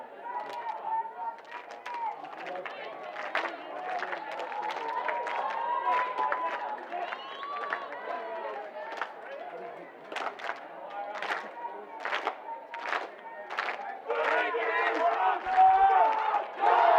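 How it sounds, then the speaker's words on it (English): A crowd at a college pre-season sports match cheers and shouts, a dense, energetic roar with sharp yells and claps that swells toward the end. "see if you can hear the crowd, I suppose"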